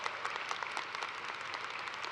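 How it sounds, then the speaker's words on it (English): Audience applause at a spring College of Nursing convocation ceremony, honoring new members of a nursing honor society; steady dense clapping from a large crowd throughout, with no voices over it. "Please join me in a round of applause for these new members of the International Honor Society of Nursing."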